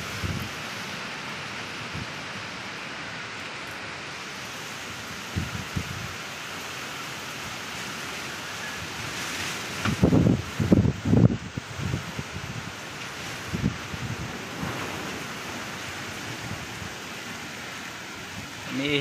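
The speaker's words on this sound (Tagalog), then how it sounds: "Umiihip na talaga si Odette." Typhoon Odette drives steady, noisy wind and rain, a constant broadband roar with a few louder gusts and rattles around the middle. There is no clear talking.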